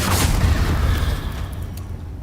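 Confringo blasting spell from Hogwarts Legacy, a single loud booming explosion right at the start that rumbles and fades out over about two seconds, with no voices.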